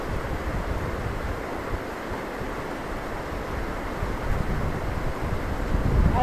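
River water on the way to Reetha Sahib rushes in a steady, broadband roar, mixed with wind buffeting the microphone, constant and without voices.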